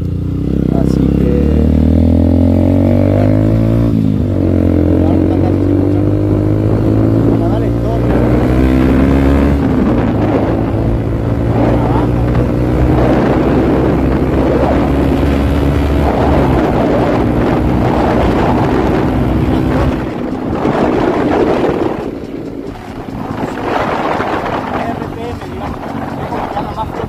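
A Yamaha FZ motorcycle fitted with a Paolucci stage 2 exhaust revving up through high RPM, its rising engine tone climbing in repeated sweeps, loud and close with wind buffeting the microphone.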